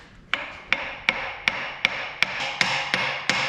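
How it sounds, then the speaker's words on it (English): A soft-headed hammer strikes the main pulley of a Land Rover 200tdi engine nine times in an even, steady rhythm, each blow a sharp, close metallic knock. "I'm using a soft-headed hammer so it doesn't damage anything."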